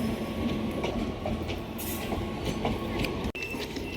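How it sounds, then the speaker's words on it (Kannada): A train pulls in at platform 1 of Belagavi railway station with a loud, continuous rumble and rattling wheels, a faint high squeal above, heard close up from the platform. "ಯಾವುದೋ ಟ್ರೈನ್ ಬರತೈತಿ, ಇದು ನಮ್ದಂತೂ ಅಲ್ಲ ಅನ್ಸುತ್ತೆ. ಪ್ಲ್ಯಾಟ್ಫಾರ್ಮ್ ನಂಬರ್ 1ಕ್ಕೆ ಬರತೈತಿ."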